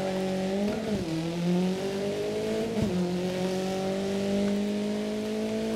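A Renault 5 hatchback from a racing video game drives with a loud, steady engine note, dipping sharply twice as the car lifts off and reapplies throttle through corners, with no talking.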